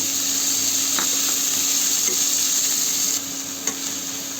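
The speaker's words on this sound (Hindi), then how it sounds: "तो लो मीडियम आँच पर भुनना है प्याज में" Onions sizzle in a pan over low-medium heat, a steady hissing fry with a few soft clinks of a spoon, fading slightly near the end.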